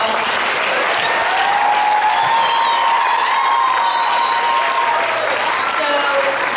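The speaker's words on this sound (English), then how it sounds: "Round of applause for our body." An audience at an elementary school's Honk! musical breaks into loud, sustained applause, with scattered whoops and cheers rising over the clapping from start to finish.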